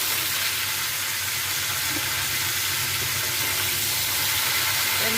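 Onions frying in hot oil with two bay leaves and a spoonful of five-spice make a steady, moderate sizzle, with faint stirring underneath and no one talking.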